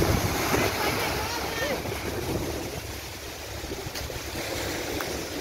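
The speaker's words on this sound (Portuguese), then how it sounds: "A água vem muito forte." Strong river current rushing and churning past a boat, a steady loud wash of water with wind buffeting the microphone and a voice speaking over it.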